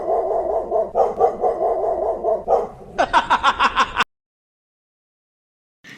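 A dog barks repeatedly nearby in a quick, bouncy series, then switches to higher, sharper yips before falling silent.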